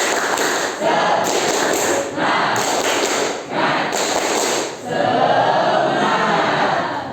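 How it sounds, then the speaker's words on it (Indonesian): A classroom of students performs a rhythmic spirit clap, loud group claps and thuds in repeated bursts with short pauses between, voices chanting along near the front. "Tepuk semangat."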